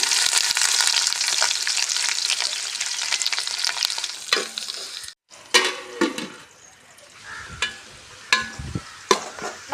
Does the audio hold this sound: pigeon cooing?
no